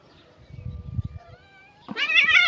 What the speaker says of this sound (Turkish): Bizim burada kedi kavgalarımız meşhurdur.